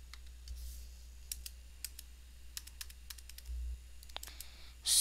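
Computer mouse clicking, a scattering of sharp, close clicks and taps at an irregular pace over a low steady hum, with no talking.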